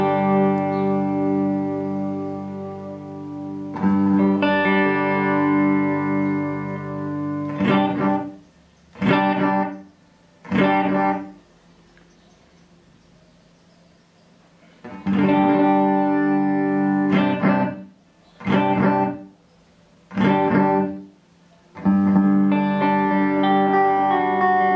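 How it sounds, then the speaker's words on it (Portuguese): A clean electric guitar through a Mooer Ana Echo delay pedal plays bursts of strummed chords separated by short stabs and gaps, each phrase trailing into echoing repeats, loud and close. "o eco é a quantidade de delay no som"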